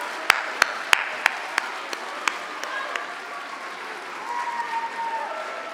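Sparse handclaps ring out at a high school talent gala after a magic trick, a handful of sharp, distinct claps in an uneven rhythm that thin out and fade within a few seconds, leaving a quiet murmuring room.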